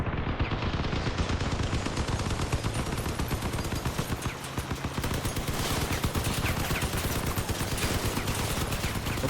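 Rapid automatic gunfire hammers a player's vehicle in the Crossout combat game, dense and continuous bursts overlapping at close range and loud throughout, with no letup.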